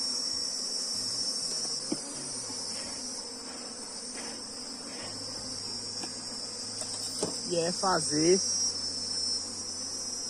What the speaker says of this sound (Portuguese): Aqui tem muita abelha na lateral